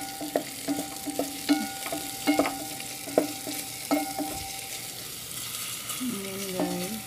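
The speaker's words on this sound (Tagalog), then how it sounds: "Tapos ginger. Saka onion. Haluin natin." Garlic, ginger and onion fry in a pan while being stirred, with a steady low sizzle and a string of short, regular utensil scrapes and taps against the pan, close by and with no talking.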